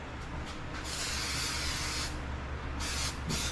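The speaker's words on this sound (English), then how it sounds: "Move this out of the way so I'm not getting overspray all over it." Aerosol spray paint hissing onto a homemade can lantern case, several short and long bursts of close spray over a low steady background hum.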